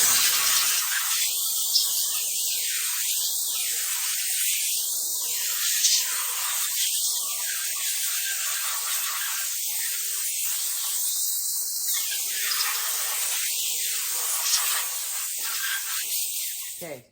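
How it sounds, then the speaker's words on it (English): An air hose blasts a cleaned Chrysler 440 piston, a loud continuous hiss running nearly the whole time with short repeated bursts rising and falling in the air stream. "now I have a little air hose over here, right here, and I'm just gonna blow this."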